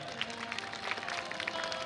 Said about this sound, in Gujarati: એકવાર જોરદાર તાળીઓથી વધાવો સાહેબ